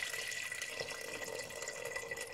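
Water running steadily from a tap into a pot for Portuguese chicken soup (canja), a continuous close splashing hiss with no talk.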